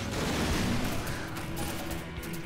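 Sustained gunfire in Half-Life 2 Episode 2, a dense rapid volley of shots and booming impacts rattling continuously at close range.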